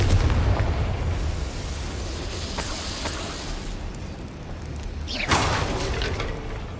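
Confringo blasting spell exploding in the Hogwarts Legacy goblin mines, a loud rumbling boom followed by a second sharp crackling blast over dense continuous game ambience.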